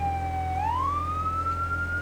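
A fire truck siren wails loudly in Firefighting Simulator - The Squad, its tone holding steady, then sweeping upward over a constant low engine drone.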